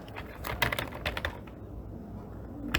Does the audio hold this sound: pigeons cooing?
no